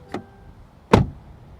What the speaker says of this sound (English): Let's hear the door open and close sound on the CT4-V from the outside and from the inside.